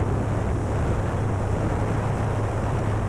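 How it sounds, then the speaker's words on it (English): A steady, loud wind roars across the microphone outdoors at an RC plane flying field. The rumble stays constant and fills the whole clip, and no voices are heard. "Okay, so that wind's really pushing me."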